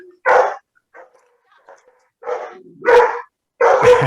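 A pet dog barks at the mail carrier in sharp, loud bursts: a quick pair of barks, a pause with faint yips, then three more forceful barks close by, with no talking.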